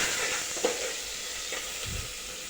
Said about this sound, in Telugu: సాల్ట్ వేసుకొని బాగా ఫ్రై చేయాలి